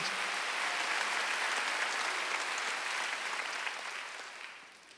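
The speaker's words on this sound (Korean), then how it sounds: "박수 한번 주세요." A church congregation at a Sunday worship service applauds in a broad, even roar of many hands, sustained and fairly distant, tapering off toward the end with no speech over it.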